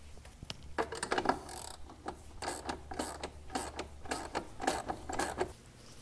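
Ratcheting and metallic clicking from loosening the downpipe clamp bolts on a 2002 Ford F250 Super Duty 7.3L Powerstroke diesel, close up, in repeated short bursts with brief pauses between them.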